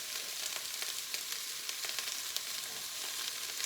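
Onion, bell pepper, jalapeno and celery sear in a hot pan with a steady, even sizzle and scattered small pops, fairly close and continuous, with no voices.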